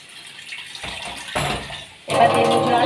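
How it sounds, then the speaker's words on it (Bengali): Water pouring into a cooking pot of potatoes and cauliflower in spice paste, starting as a soft trickle and swelling into a loud, steady splashing stream. "এবার দেব জল।"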